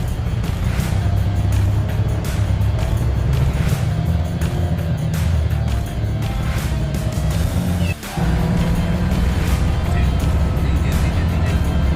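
A John Deere 835R Gator fitted with tracks drives through deep snow in a blizzard, its engine droning steadily and close throughout, with a brief dip partway through.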